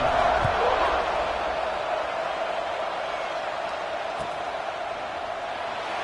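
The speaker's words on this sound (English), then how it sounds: "this crowd is buzzing after that last score" Football stadium crowd during a USC versus Oregon game buzzing after a score, a dense, steady roar of many voices under an announcer's commentary.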